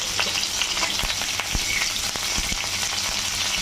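Cauliflower florets sprinkled with salt and turmeric fry in hot oil in a pan, a dense, steady close sizzle with occasional sharp crackles and pops, no talking.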